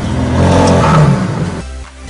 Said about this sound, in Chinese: 这是排气就是交响乐。